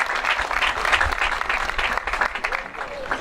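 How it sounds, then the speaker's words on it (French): An audience applauds at a prize-giving for the six fastest runners of a morning 5 km race. Dense, steady clapping from a crowd fills the whole stretch at an even loudness. "sous vos applaudissements, les 6 plus rapides ce matin sur le 5 km"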